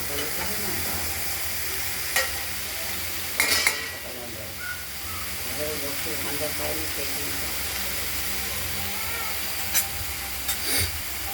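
Chopped snake gourd fries with nigella seeds and onion in a wok, giving a continuous close sizzle and hiss, punctuated by occasional sharp scrapes and clacks of a stirring spoon; a voice speaks faintly underneath at times.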